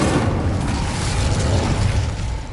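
Fiery spell blast from Incendio cast in Hogwarts Legacy, a loud sustained roaring burst with heavy low rumble lasting a couple of seconds, no voices over it.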